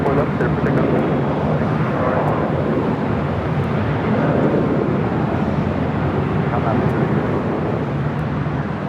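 Heavy jet airliner rolling for takeoff on runway 24 left at Los Angeles International Airport, a steady loud broadband engine roar that swells slightly, with a voice talking over it.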